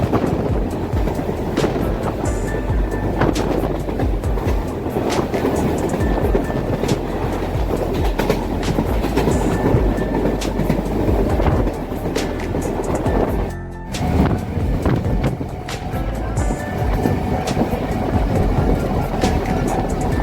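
A train pulls in at Kankinara station, its steady loud rumble and clattering wheels continuing close by throughout, with a brief dip partway through and no talking.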